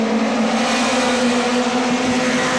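Mini stock race cars running side by side at Atomic Speedway, a loud, steady engine roar with a sustained droning tone close by, no pauses and no talking.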